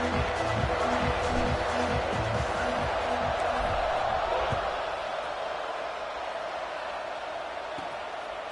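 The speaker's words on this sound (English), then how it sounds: "They're set to kick it off, and this crowd now ready to get behind them." Football stadium crowd roaring at kickoff, a broad, loud, steady wash of cheering that eases slightly toward the end, with a rhythmic thumping beat under it early on.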